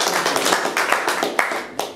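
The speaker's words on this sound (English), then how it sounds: "Give Lee a round of applause." Applause for a contestant on a quiz show: a short burst of studio audience clapping, fairly loud and close, with sharp individual claps over a dense patter that holds steady for two seconds.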